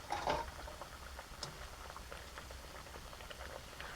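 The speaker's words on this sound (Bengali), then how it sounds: "একটা করে কচুরি নিয়ে আমি তেলের ওপরে দিয়ে দেব।" Small egg kochuri sizzle as they fry in hot oil, giving a steady, dense crackle and bubbling with a slightly louder burst at the start.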